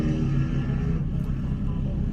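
An Alpine A110 R sports car on a race circuit, its engine droning with a steady low, harmonic-rich tone that dips briefly and then carries on evenly.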